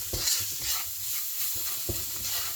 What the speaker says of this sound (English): And then the seasoning that we made earlier, straight in there. Give all of that a mix